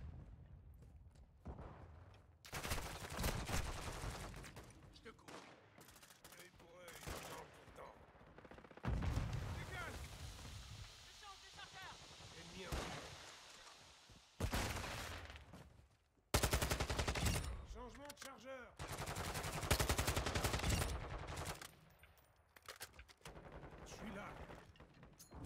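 Gunfire in the Call of Duty video game comes in loud bursts of automatic shots with short gaps, heavy and close, over a quiet background with a faint voice.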